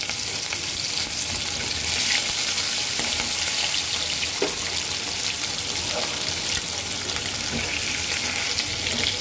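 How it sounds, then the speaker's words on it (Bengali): Hilsa fish fries in mustard oil in a karai, giving a constant loud sizzling hiss with occasional spatters and stirring clinks, unbroken throughout with no voices. "মাছটাকে খুব সুন্দর করে ভেজে নেব।"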